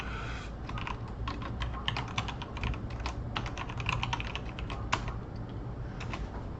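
Someone types on a new computer keyboard, giving a quick, uneven run of close key clicks over a low steady hum.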